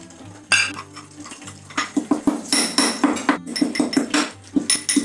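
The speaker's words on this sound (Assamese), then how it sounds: "এইখিনি গৰম মছলাখিনি এনেকৈ খুন্দনিত দি দিম দি পেলাই ভালকৈ খুন্দি লম" Garam masala spices are pounded in a mortar with a pestle for an Assamese aloo dum, a close, loud run of rhythmic thudding knocks with a grinding scrape, steady and quickening, with no talk.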